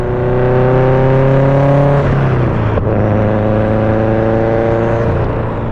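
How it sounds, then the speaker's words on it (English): A Subaru STi fitted with a big turbo, heard close and loud with a steady engine hum that rises, dips briefly as the revs change, then climbs and spools again before easing off. "The way that it spools, it sounds like it's a larger turbo"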